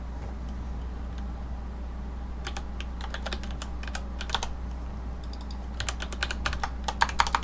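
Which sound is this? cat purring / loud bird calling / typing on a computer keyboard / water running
typing on a computer keyboard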